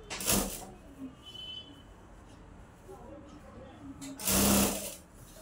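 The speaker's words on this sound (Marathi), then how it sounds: "तुम्ही बघू शकता मी कसं शिवते आहे।" A sewing machine stitches a Kolhapuri nauvari saree in two short, loud whirring runs at the start and end, with quiet handling and a voice talking in the pause between.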